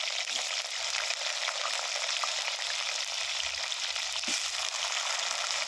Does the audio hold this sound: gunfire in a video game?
no